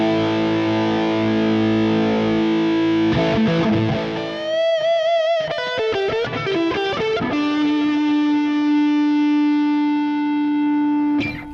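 An electric guitar plays through a NUX Mighty Space wireless desktop amp set to high gain: sustained distorted chords, then a break into quick, sharp picked notes and ringing held tones, loud and unaccompanied by talk.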